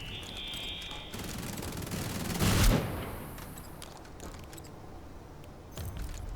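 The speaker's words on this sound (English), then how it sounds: "So the bottom machine gun ones are miniguns." Gunfire from minigun machine-gun turrets in the video game Outpost Infinity Siege, a dense continuous burst swelling to a loud peak midway before settling back to a steady background rattle.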